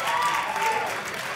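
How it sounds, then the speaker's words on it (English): Crowd at a freestyle wind tunnel competition applauds after a solo routine, a dense, steady wash of clapping and cheering at moderate loudness filling the whole moment. "Huge round of applause from the crowd"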